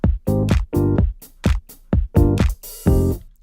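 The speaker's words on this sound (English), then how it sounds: "Rhodes and the percussion and the bass from the intro" Instrumental groove of Rhodes electric piano, percussion and bass with the vocals muted, heard as punchy rhythmic chord hits and deep bass pulses with brief gaps between them, loud and close.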